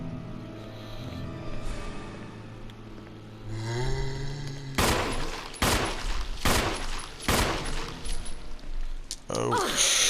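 Repeated gunshots in the Resident Evil Remake video game, about five loud sharp blasts at a steady pace after a stretch of low rumbling game ambience.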